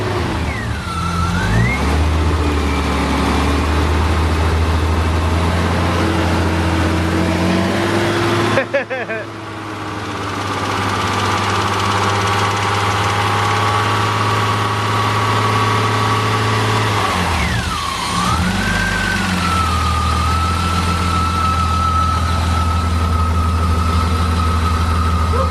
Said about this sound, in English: The Cheeto's running again, and the noise is gone.